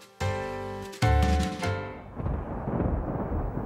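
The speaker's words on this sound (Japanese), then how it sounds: "雷。" Deep rolling thunder swells into a long, broad rumble during a rainy story scene in LoveLive! School Idol Festival All Stars, following a brief stretch of music and continuing alone without talk.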